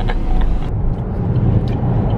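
A car engine revs as the vehicle pulls away under extra throttle. It is a loud, low, rumbling drone heard close by throughout.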